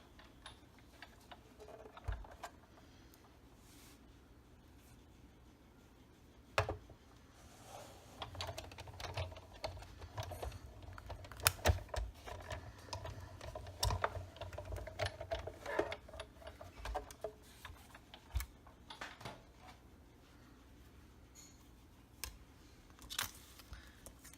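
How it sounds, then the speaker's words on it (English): A Big Shot die-cutting machine cranked to cut card stock, heard as a close run of quiet clicking, ratcheting taps and mechanical creaks that come in an irregular burst in the middle and then trail off, with no talk. "let me pull my Big Shot out here again to cut them"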